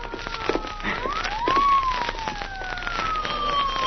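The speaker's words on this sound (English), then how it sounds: "Police car." A police siren wails nearby, its tone sweeping up and down over a crackly background, steady and fairly loud throughout.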